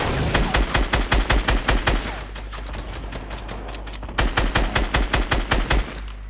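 Rapid automatic gunfire rattles in loud, evenly spaced bursts during a shooter video game firefight. Two long volleys are split by a brief lull, close and dominant with no talk over them.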